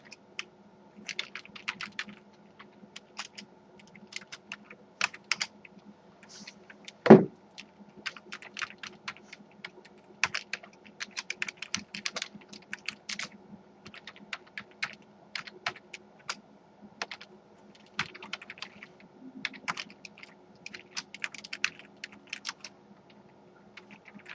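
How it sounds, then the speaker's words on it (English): Steady computer-keyboard typing while entering PHP code, with dense irregular key clicks and occasional louder keystrokes, close and alone without any speech. "Now I'm going to type this out, and then I'll explain it."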